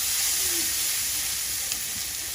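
Green chilies fry in hot oil with cumin seeds, a dense, loud, steady sizzle close by with faint stirring and no voices.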